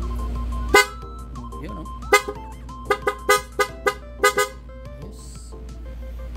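A dual PIAA horn fitted to a Yamaha Aerox 155 scooter blares in short, loud toots, several spaced blasts followed by a quick run of rapid honks, with brief talk between them.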